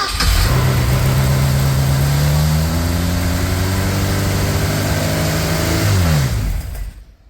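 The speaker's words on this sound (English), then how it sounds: "revved up a little high, but it started" A boat engine catches and revs loudly, holding a steady rumbling pitch before dropping and cutting off near the end.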